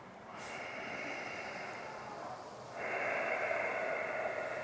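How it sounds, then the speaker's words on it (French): Ujjayi yoga breathing drawn through a constricted throat, a steady, ocean-like hissing rush that grows louder partway through as a fuller breath begins, close and alone. "ajouter Ujjayi, la respiration venant de la gorge"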